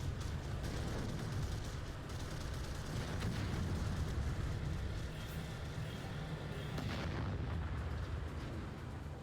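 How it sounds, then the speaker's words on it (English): Artillery in the VR war game Final Assault pounds away in rapid, overlapping booms and blasts, a dense continuous barrage heard fairly faintly throughout. "The artillery units here doing some massive amounts of damage"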